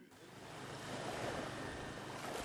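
Ocean waves wash steadily around seaweed farms off West Timor, where floating bottles mark the plots, with a continuous broad surf rush and some wind noise that swells slightly after the opening.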